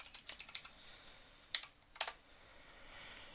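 Quick taps on a computer keyboard entering a command in a terminal, a run of light clicks followed by a few isolated keystrokes, quiet and close with no talking.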